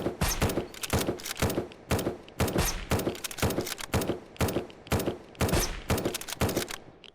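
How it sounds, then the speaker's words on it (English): A turret in the zombie survival game Surroundead fires at a boss in loud, rapid bursts of gunfire, separated by short pauses, each volley a cluster of sharp cracking shots repeating steadily throughout. "that turret is taking the boss down"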